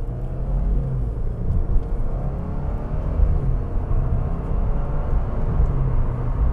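A 2022 Subaru WRX engine in manual mode while driving, a steady loud low rumble of engine and road noise with no distinct shift breaks, no talking.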